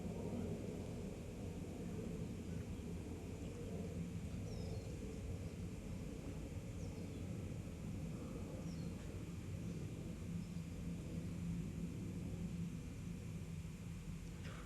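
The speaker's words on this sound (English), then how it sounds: "We'll wait for the aeroplane to go by." An aeroplane passes overhead at an outdoor public talk in Ojai, heard as a low, steady broadband rumble that fills the whole stretch without any speech.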